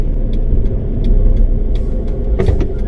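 A Honda CR-V fitted with a B16 engine drives smoothly, its engine and road noise forming a steady loud rumble inside the cabin, with faint ticks and clicks on top and no talking.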